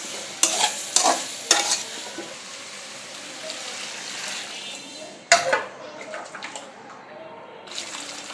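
Radish and other vegetables sautéing in a hot pan for a fish and radish curry, with several sharp scraping stirs of the spoon over a steady, close sizzle.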